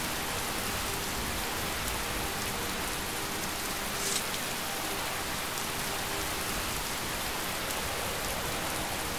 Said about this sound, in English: Oh, this rain is loud, man.